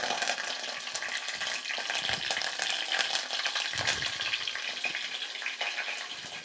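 Cumin seeds, curry leaves and two green chillies splutter in hot oil for a country chicken curry, giving a dense, continuous crackling sizzle with sharper pops, close and steady with no voices.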